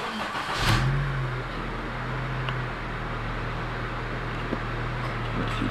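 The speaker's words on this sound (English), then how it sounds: "I'll go ahead and crank it now." A 2009 Honda Civic Si with a 2.0 i-VTEC engine cranks briefly and starts, revs up quickly, then settles into a steady close idle.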